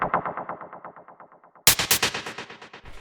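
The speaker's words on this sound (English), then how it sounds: "You can hear it's just some white noise" Rhythmic bursts of filtered noise ring out as resonant chord stabs, pulsing steadily, then a brighter, louder noisy stab repeats in the same rhythm.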